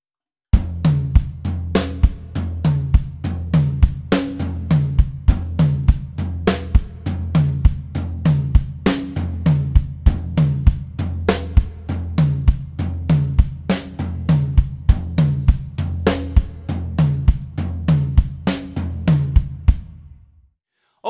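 A steady drum pattern of tom and bass drum hits repeats at a slow, even tempo for about twenty seconds, then stops abruptly.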